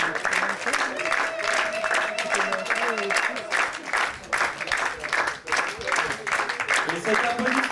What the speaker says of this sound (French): Et cet applaudissement aussi pour tous les gens qui sont à la lumière, qui sont au son évidemment